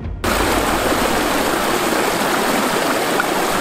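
Water rushes into the intake of a homemade ram pump in a loud, steady flow that starts abruptly after a brief moment of quiet and keeps up with no pause.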